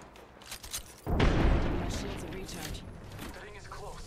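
A frag grenade goes off in Apex Legends: a sudden loud, deep blast about a second in, followed by a long rumbling decay with game noise around it.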